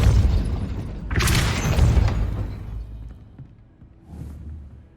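A Depulso force-push spell cast in Hogwarts Legacy, a loud deep whooshing boom that rumbles for a couple of seconds and then fades, followed by a fainter thud near the end.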